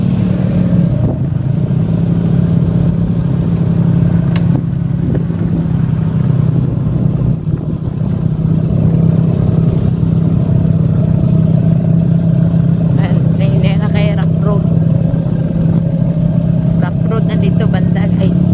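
A motorcycle engine hums steadily at low revs on a round-trip road ride between Tubungan and Sibalom, with wind and road noise and occasional brief rises in revs.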